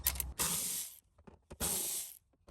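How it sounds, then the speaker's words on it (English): A Milwaukee ratchet with socket and extension clicks rapidly in two close, loud bursts while removing bolts during an FJ Cruiser automatic transmission removal, with brief quiet gaps and faint handling noises between. "I'm going to use a socket and my Milwaukee ratchet and an extension."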